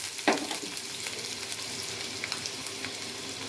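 Onions dropped into hot oil erupt into a loud sizzle that settles into a steady, close crackling fry with soft stirring sounds.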